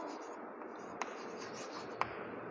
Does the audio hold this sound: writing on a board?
yes